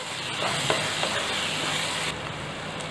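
Pointed gourd sabzi (parval shaak) frying in a pan on a medium flame while being stirred, a steady close sizzle with a few scraping clicks of the spoon and no talk.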